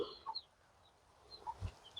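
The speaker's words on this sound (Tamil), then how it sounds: "கோழி குஞ்சு" Chickens with chicks in a home vegetable garden, soft scattered clucks and chirps at close range, with a short louder call near the end and quiet outdoor ambience between.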